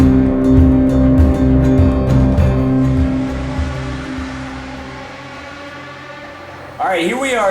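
Race car engine from NASCAR '15 on PS3 during qualifying at the Sonoma road course, a steady loud droning roar with shifting pitch, with a voice talking over it throughout and a sharp rising whine near the end.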